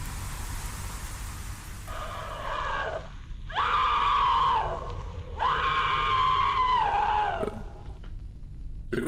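A woman screams in a 1965 science-fiction film, two long loud shrieks with a short gap between them, set against a steady background hiss and no talking.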